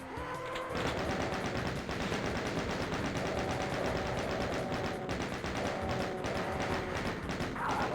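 Rapid, continuous gunfire from DOOM: Legacy of Rust hammers out in dense, evenly spaced bursts at close range and loud, with only a brief lull at the start.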